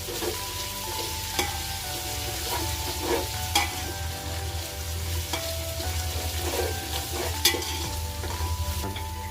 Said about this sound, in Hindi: इसमें धनिया पत्ता ऐड करना है। अब इसको भी 1 मिनट तक चलाना है।